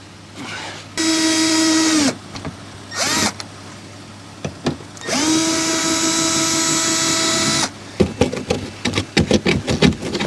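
A power tool spins out small bolts from the inner fender well of a 2020 Ford F150, two long loud whirring runs with brief bursts between, ending in a rapid series of short clicks and rattles.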